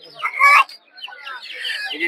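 Chickens cluck and squawk close by at a large, busy poultry, duck and quail market in Narsingdi, Bangladesh, where local and tiger chickens are sold; bursts of clucking come and go against crowd noise, and voices may be mixed in.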